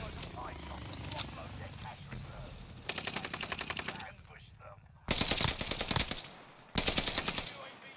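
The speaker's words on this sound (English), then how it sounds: "Here, I'm gonna shoot this real quick." Call of Duty: Warzone gunfire comes in three loud, rapid automatic bursts separated by quieter gaps, with a voice talking in the background.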